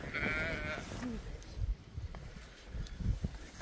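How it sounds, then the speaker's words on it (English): Sheep in a four-acre UK food garden give a clear, close bleat at the start, followed by quieter shuffling and soft movement sounds. "They are our sheep"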